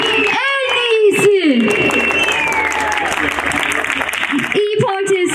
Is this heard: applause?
yes